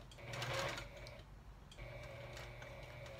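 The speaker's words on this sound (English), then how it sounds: "And I sew off the edge." A sewing machine stitches a seam off the edge of a fabric bowl cozy, its motor whirring steadily in two runs split by a short pause, close and moderately loud.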